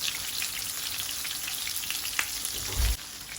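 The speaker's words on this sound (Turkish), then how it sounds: "Peynirlerim hemen birkaç dakika içerisinde kızarmaya başladı." Slices of cheese frying in a hot pan, a continuous fine crackling sizzle heard up close, ending in a brief louder thump.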